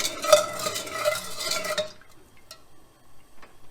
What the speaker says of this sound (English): we'll start stirring until it's completely dissolved